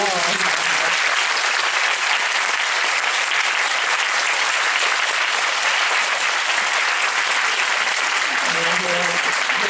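Dense, loud applause fills a theater at the Busan International Film Festival as the audience welcomes the director and lead actress to the stage, steady throughout with brief voices at the start and end.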